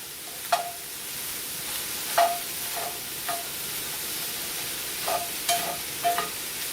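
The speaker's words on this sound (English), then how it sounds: "Okay, stirring that in." Ingredients stirred into a one-pot unstuffed pepper casserole, a spoon scraping the pot in several brief, evenly spaced knocks over a steady background hiss.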